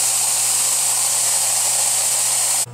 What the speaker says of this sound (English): That's the liquid carbon dioxide filling in the chamber.